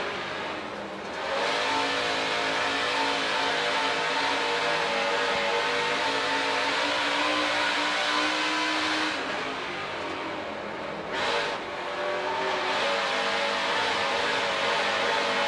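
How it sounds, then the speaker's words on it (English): A dirt race truck's engine roars close by at a practice session as the driver works the throttle, holding long high-revving pulls with brief dips where he lifts off before pressing back on. "Let's take a ride and listen to him work that throttle."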